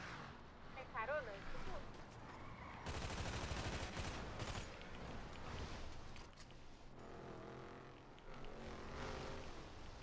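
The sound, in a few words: gunfire in a video game shootout with police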